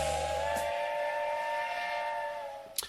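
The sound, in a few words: train whistle sound effect for the love train segment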